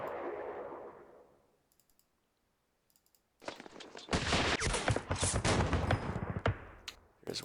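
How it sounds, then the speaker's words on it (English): Gunfire barrage from a World War II strategy game, a dense crackling volley of shots that builds after a quiet pause and keeps rattling loudly in rapid bursts, preceded by a fading rumble. "It's a very effective barrage."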